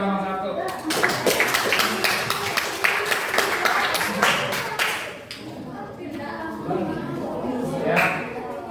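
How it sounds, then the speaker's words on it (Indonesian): Students in a chemistry class give group 1 a round of applause, a dense burst of rapid claps for about five seconds, close and lively, fading into talking voices. "Ayo silakan tepuk tangan dulu nih buat kelompok 1."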